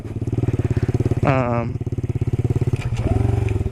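Honda Trail 90 motorcycle on dirt roads, its engine thumping rhythmically up close, with a brief pitch sweep as it is downshifted mid-clip before settling back into a steady putter.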